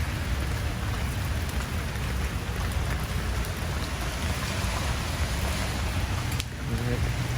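Heavy, steady rain falls across an open town plaza during a downpour, a dense continuous hiss with low rumble that holds constant throughout, with no clear voices.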